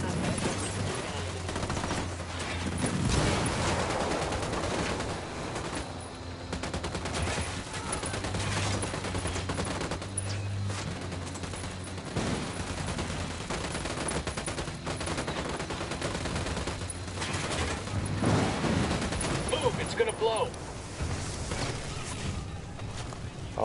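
Dense video game battle gunfire: rapid machine-gun bursts and overlapping shots roll on almost without pause for the whole stretch, loud and close, with heavier booms mixed in.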